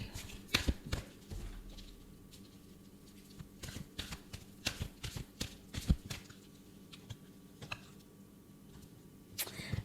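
A tarot deck is shuffled by hand at a reading, giving a steady run of soft riffling clicks and taps that bunch into bursts over about ten seconds, fairly faint and up close, with no one speaking.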